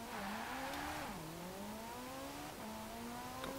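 The 1984 Ferrari 288 GTO, fitted with a 458 engine, accelerates through a tunnel in Forza Horizon 4. A smooth, rising engine note climbs through the gears, with pitch dips at each shift.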